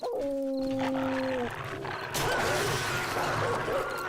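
A zombie dog in the video game 7 Days to Die gives a drawn-out, wavering whine over a creaking, mechanical game background. A denser, louder rumble of in-game noise follows, with no talk over it.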